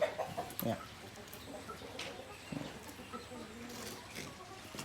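Laying hens cluck and murmur in a chicken coop on a breeding farm, scattered soft calls at moderate distance over a steady ambient hum.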